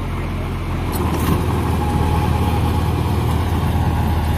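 A John Deere 5050E tractor running at roughly 1700–1800 rpm while driving a Lendforce rotavator through hard, compacted ground gives a steady, loud, close diesel drone that continues unbroken throughout.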